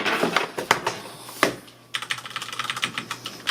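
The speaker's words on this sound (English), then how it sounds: "I'll let you guys hear the keys." Rapid, crisp clicking of mechanical keyboard keys, close up, in irregular bursts with a brief pause midway.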